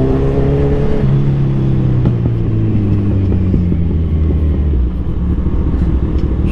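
Kawasaki Z1000R motorcycle engine running loud and close, a steady rumbling idle with a pitch sweep as it revs down, continuous throughout with no talking.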